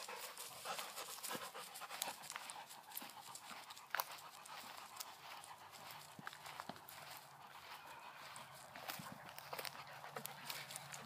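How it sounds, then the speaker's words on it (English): Dog panting hard while running alongside a person outdoors at sunset, quick rhythmic breaths close to the microphone over continuous rustling and footsteps, with no talking. "Dog will chase me anywhere."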